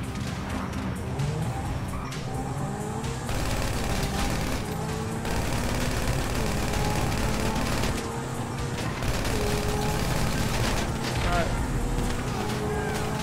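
Video game gunfire in a driving scene, rapid shots mixed with vehicle engine noise and crashes, steady and busy throughout while people talk over it.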